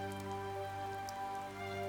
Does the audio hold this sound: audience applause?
no